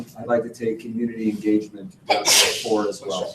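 One sharp sneeze bursts out in a public committee meeting, close to the microphone, right after a person speaking calmly.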